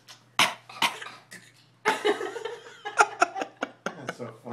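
A baby coughing on purpose, several short deliberate coughs scattered through the clip, each followed by adult laughter and chuckling close by.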